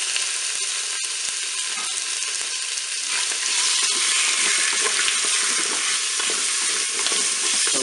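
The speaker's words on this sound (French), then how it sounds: "Je vais déposer ma viande dans le cookéo." A turkey cutlet sears in a preheated Cookeo multicooker, giving a loud, continuous hiss and sizzle that swells a little after a few seconds, with no voices over it.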